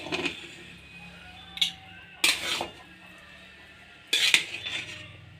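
A spoon scrapes and clanks against a pressure cooker while cooked dal rice is stirred, three or four short separate bursts of metallic clatter with quiet between them.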